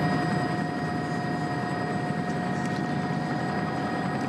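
A helicopter hovers over a cycling sprint finish in Copenhagen, its steady rotor drone and engine whine continuous and fairly distant, with no talk.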